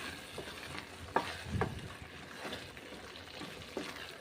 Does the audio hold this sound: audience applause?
no